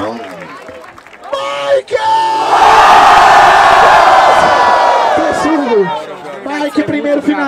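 A crowd at a Brazilian rap battle semifinal roars with cheers and shouts for the battle rapper Zuluzão, a loud sustained swell after a host's voice, then easing back into talk.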